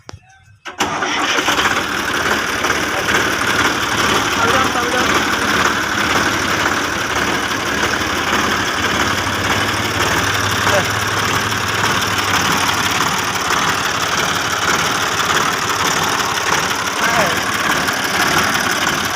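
A Sonalika Supreme 50 tractor engine catches after a brief start and settles into a steady, loud, close idle that runs unbroken throughout.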